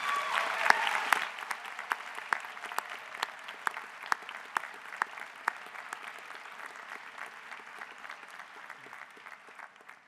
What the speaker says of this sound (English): Students, please join me in a round of applause for your family and friends.